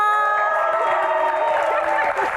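A studio audience at a dangdut show applauds and cheers for three dangdut divas, a loud, dense and continuous roar of clapping and whoops filling the room without a break.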